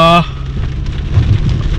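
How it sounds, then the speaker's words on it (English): Monsoon rain falls steadily outside, a dense, even hiss of drops close by that continues throughout after a brief tonal sound at the start, with no talking. "the rain is keeping us in that gloomy kind of monsoon mood"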